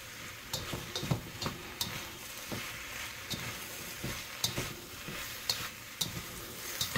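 Bok choy stir-fries in a hot pan with a splash of water, a steady sizzle broken by irregular clacks and scrapes of the utensil tossing the greens.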